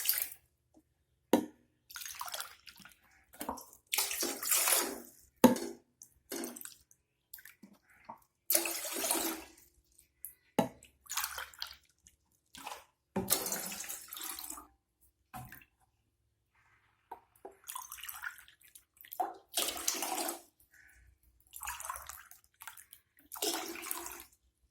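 Water poured into a pot for making betel-leaf kashayam, splashing in repeated bursts with short pauses between pours, close and fairly loud, with no voice over it.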